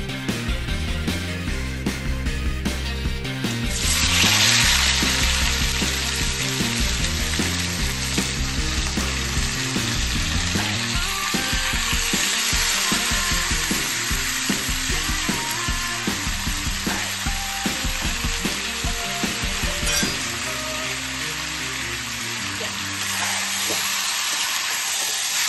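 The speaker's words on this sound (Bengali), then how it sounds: "আবার আমরা তেল ছাড়লাম, এতে এবার ম্যারিনেটেড করা চিকেনটা দিলাম।" Marinated chicken frying in hot oil for a dhaba-style masala chicken gravy: a loud, continuous close sizzle with bursts of spattering and stirring, with background music underneath.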